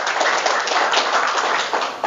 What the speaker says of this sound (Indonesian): Tepuk tanganlah untuk itu